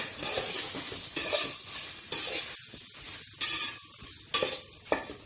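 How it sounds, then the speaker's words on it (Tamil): Tomatoes sauté in a pan with bursts of loud sizzle as they are stirred, about five clear surges in an uneven rhythm. A soft frying hiss runs between the strokes, and occasional utensil clinks sound against the pan. "நல்லா தக்காளி மசிஞ்சு வதங்கணும்"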